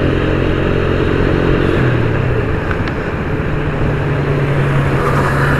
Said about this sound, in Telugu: అన్న ఎవడో బైక్ వేసుకుపోతున్నాడు